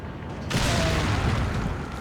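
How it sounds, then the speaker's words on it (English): A loud boom bursts in from a quiet start in Resident Evil 4, as the lake monster Del Lago explodes, followed by a dense, roaring rumble that holds steady for about a second and a half. "now we're gonna take him out, and he's gonna explode"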